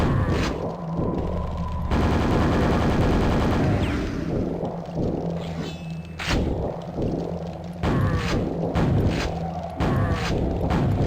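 Gunfire rings out in the video game Quake as heavy repeated shots and thuds, with a sustained burst of fire and several sharp booms.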